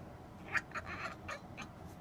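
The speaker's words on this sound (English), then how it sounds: "Look, look at the birds." Ducks quack outdoors in a short burst of several calls, faint and a little distant, with no talk over them.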